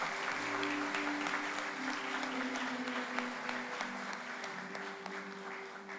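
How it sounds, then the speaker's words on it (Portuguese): A church congregation applauds at the close of an Easter service, with steady clapping that fills the room for several seconds and a low murmur of voices underneath. "Uma salva de palmas, é isso mesmo."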